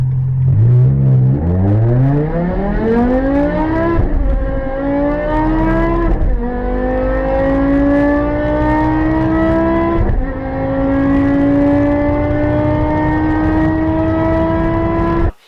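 A loud, high-revving 507-horsepower V10 car engine that revs to 8,300 RPM screams up through the gears, its pitch rising repeatedly with quick dips at each shift, close and continuous.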